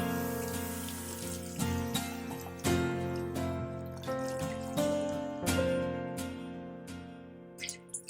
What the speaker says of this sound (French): on prend un gant de toilette que nous mouillons des deux faces.